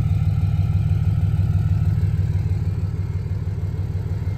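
A vehicle engine idles steadily and loudly close by, with a deep, even low rumble that holds without a break; it runs a little unevenly and is noted as needing a fuel filter.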